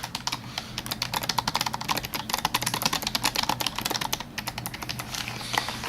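Rapid, continuous typing on a laptop-style keyboard, with dense irregular key clicks up close and a faint low hum underneath.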